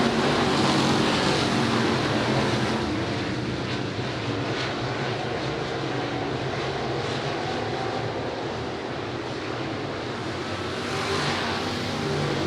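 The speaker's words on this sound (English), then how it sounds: "Two wide racing down the front straightaway" Sportsman race cars roar around Patriots Park Raceway, several engines blending into a loud, continuous drone as the pack runs two wide down the front straightaway, with a slight surge near the end.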